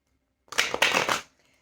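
A deck of Keepers of the Light oracle cards riffled close up in one quick burst of rapid papery flutter, then silence, with no talk.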